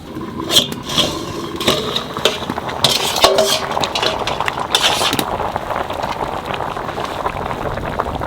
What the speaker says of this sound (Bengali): এখানে ঢাকনা খুলে আলু দিয়ে আবার 10 মিনিট ঢাকা দিয়ে রাখবো